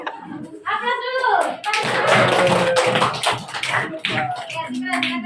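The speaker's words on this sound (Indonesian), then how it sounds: "Aplaus dulu." Students in a classroom applauding, a burst of clapping with lots of scattered hand taps, mixed with children's voices and chatter throughout.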